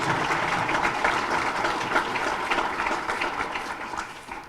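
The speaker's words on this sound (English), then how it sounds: "Let's give a round of applause, please, for all of our sponsors." Steady applause from an event audience honoring sponsors at a county celebration, a dense continuous clapping wash that holds at even loudness throughout.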